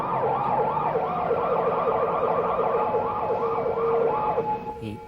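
A police siren is triggered in an interactive virtual world demo, sounding as a loud, steady wailing warble that repeats quickly for about four seconds and then cuts off, with no one speaking.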